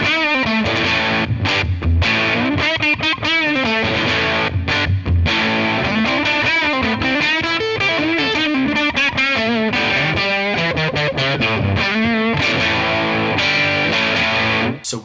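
Electric guitar played through a Tate FX Sirens Scream, a RAT-style distortion pedal with no clipping diodes, gain and tone turned fully up: continuous loud, gritty distorted chords and riffs, no talking.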